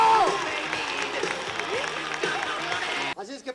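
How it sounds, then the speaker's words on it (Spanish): Rodeo arena crowd applauding a bull rider at a professional bull-riding event, a dense wash of clapping and cheering mixed with music and an announcer's voice, cutting off sharply near the end. "¡Recibe el aplauso, San Pedro!"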